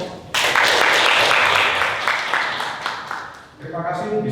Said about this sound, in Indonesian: sekali lagi beri aplaus.